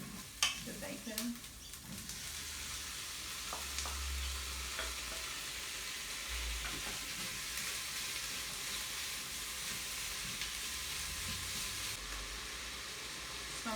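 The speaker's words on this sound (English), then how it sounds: "I'm going to add the bacon." Bacon and shallots frying in a pan for boeuf bourguignon, a soft, even sizzle held throughout, with a few light utensil knocks near the start.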